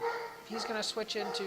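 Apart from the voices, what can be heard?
dog barking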